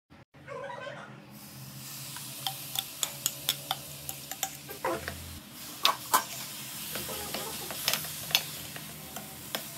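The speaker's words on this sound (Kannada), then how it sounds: "ಇದನ್ನೀಗ ತುಪ್ಪದಲ್ಲಿ ಚೆನ್ನಾಗಿ ಫ್ರೈ ಮಾಡ್ಕೊಳ್ತೀನಿ" Semolina frying in ghee with pineapple paste sizzles steadily in a pan while a spoon scrapes and taps against the metal in a regular rhythm of sharp clicks, close and clear.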